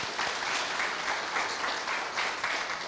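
Steady, dense applause from an audience at a Korea University project preview event, sustained for the full stretch with no voices cutting through.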